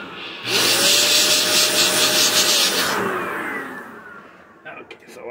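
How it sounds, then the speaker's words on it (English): An air compressor blasts dust out of an Asus ROG laptop: a loud, harsh hiss of rushing air bursts in and holds for a couple of seconds, then trails off with a fading whine and a few small clicks. "Now we're gonna take our trusted compressor and blow the dust."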